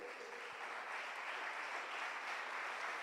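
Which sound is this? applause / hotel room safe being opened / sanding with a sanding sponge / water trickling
applause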